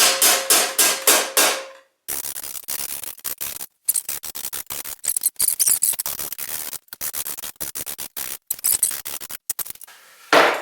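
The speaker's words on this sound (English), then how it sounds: "So I'm going to finish off with a hammer and dolly set." Rapid, sharp metallic taps strike in quick bursts, a hammer beating sheet metal against a dolly while shaping custom rocker panels, loud and close with brief gaps between flurries.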